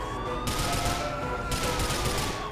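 Rapid bursts of gunfire in a police video game, a dense crackling volley aimed at the player, with a siren-like tone threading through the noise.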